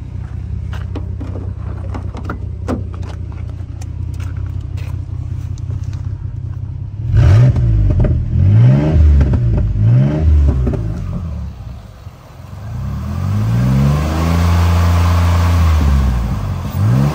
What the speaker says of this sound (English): We have a 2004 Ford Explorer.